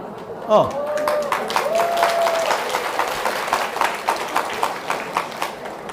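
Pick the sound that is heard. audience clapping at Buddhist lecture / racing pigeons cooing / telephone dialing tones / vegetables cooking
audience clapping at Buddhist lecture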